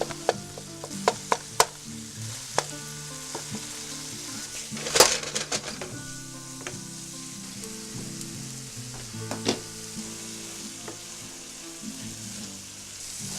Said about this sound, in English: Stir and mix and stir and enjoy that delicious aroma of your excellent meal.